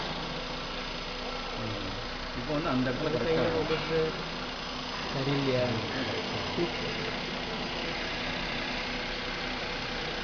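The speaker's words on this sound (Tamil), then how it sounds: "இப்போ கேட்குற சவுண்டு வந்து நார்மல் இன்ஜின் சவுண்டு." A car engine runs steadily with its belt and timing chain turning, a low, even mechanical hum with faint ticking, while a person talks over it.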